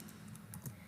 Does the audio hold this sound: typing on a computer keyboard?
yes